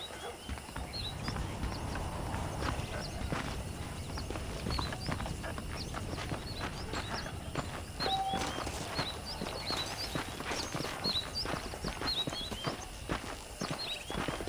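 Horse hooves clip-clopping at a steady walking rhythm in Red Dead Redemption, continuous and fairly close over outdoor ambience with faint bird chirps, no talking.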